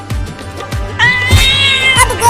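A cartoon cat in a Hindi desi comedy cartoon lets out one loud, drawn-out meow over thumping background sounds.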